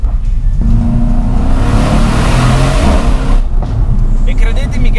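A Mercedes C63 S AMG engine revs hard and loud up close, climbing and holding before dropping off, then revving again briefly.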